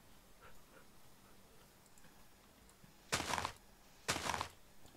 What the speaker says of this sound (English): Oh my god, come back here, you dog.